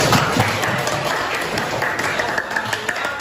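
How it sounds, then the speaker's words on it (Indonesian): A classroom of students applauds together in a steady, dense burst of clapping, close and fairly loud for a few seconds. "Ya, baik, tepuk tangan buat semuanya."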